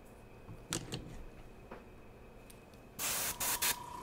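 An airbrush sprays ivory paint in quick hissing bursts. Several brief puffs come first, then a longer, louder burst of spray close by.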